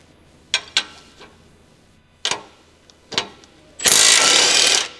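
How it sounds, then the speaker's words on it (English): An electric impact wrench with an 18mm deep socket rattles in short bursts on the shock absorber bolt at a Jeep Wrangler JK rear axle, several sharp clicks and taps followed by one loud, sustained burst near the end, with no talk. "Use an 18mm wrench together with an 18mm deep socket and electric impact wrench to remove the bolt connecting the"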